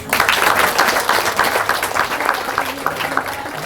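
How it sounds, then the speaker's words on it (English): An audience at the 14th Monsoon Regatta prize distribution applauds the organizers with steady, brisk clapping from many hands, fairly close and full for a few seconds, with a murmur of voices beneath. "please join me in giving them a round of applause"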